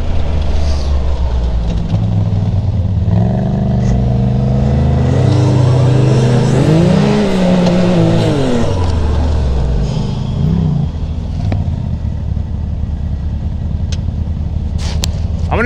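A side-by-side UTV engine running with no air filter revs up and down loudly and up close, with a rising and falling drone throughout and no talk.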